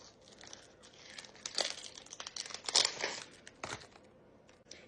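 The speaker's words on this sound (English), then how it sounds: "And then I peel this outside layer off." Close, quiet crinkling and tearing as the papery outer layer is peeled off a cut onion, with irregular crackly bursts over a few seconds.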